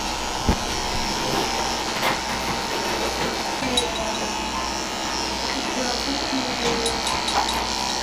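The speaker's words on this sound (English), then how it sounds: "I'm just gonna start shaving all the mats" Electric clippers shaving matted fur from a mini doodle dog, a continuous buzzing hum that runs steadily throughout with small clicks and shifts as the blade works through the mats.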